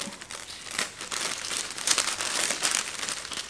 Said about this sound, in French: vous avez le papier de soie avec le logo de la marque, le petit autocollant Pollen, on va essayer de l'ouvrir comme il faut